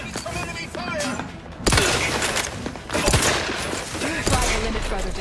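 Gunfire bursts in the video game Outer Worlds 2 crack and thud over a sustained din of battle, with loud shots at intervals and a voice speaking throughout.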